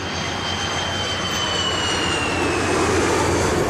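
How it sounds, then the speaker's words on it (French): Airplanes pass overhead as a sound effect, a loud continuous engine roar with a whining tone that slowly builds across the sky, no voices. "Des avions traversent le ciel."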